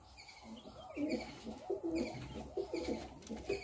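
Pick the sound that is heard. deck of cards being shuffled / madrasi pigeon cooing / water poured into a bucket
madrasi pigeon cooing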